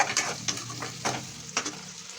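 Paneer curry frying in a pan, with a few short scraping stirs spaced about half a second apart over a low, steady sizzle, close and moderately quiet.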